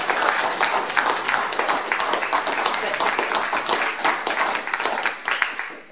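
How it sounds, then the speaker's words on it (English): At a General Election 2017 equality hustings, the audience gives the candidates a round of applause, loud close clapping that swells, keeps going and tapers off toward the end. "We'll just have a round of applause for our candidates."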